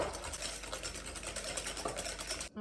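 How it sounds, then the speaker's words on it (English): Electric mixer, stand or handheld, beating butter and sugar for chocolate crinkle cookies: a steady close whirring buzz with faint scraping, cutting off abruptly near the end. "I'm gonna mix these together until they're mixed and nice and frothy"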